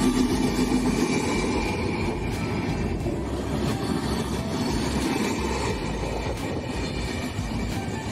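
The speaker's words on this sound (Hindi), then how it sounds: "ट्रेन जाऊे देख" A train rolls by close and loud, a constant rumbling roar with rhythmic wheel clatter throughout, no voices.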